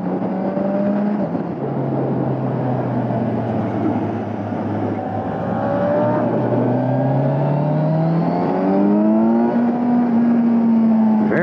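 A 2022 Kawasaki Ninja 1000SX motorcycle accelerates hard, its engine note climbing steadily and loud up through the revs, with wind rush throughout and no talk.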